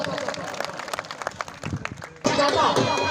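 An audience at a stone weightlifting competition breaks into loud, dense clapping after a stretch of talk and crowd murmur, and the applause keeps going steadily to the end.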